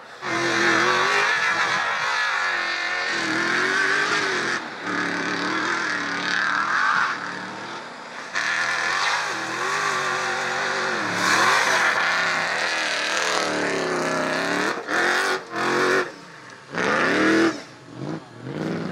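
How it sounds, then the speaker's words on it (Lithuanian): A Toyota Hilux Dakar rally car accelerates hard in a quarry, its engine rising and falling through repeated loud revs and gear changes close by, with a few abrupt cuts as it brakes or lifts off and no voices. "Labai nustebino būtent akceleracija ir stabdymas."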